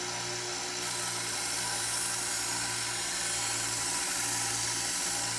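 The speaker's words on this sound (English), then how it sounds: "it is so easy to sharpen because of how thick it is at the bolster" Blade of a knife being sharpened at a 20-degree angle, thick at the bolster, giving a steady, continuous grinding hiss that runs unbroken for several seconds at moderate level with no talking.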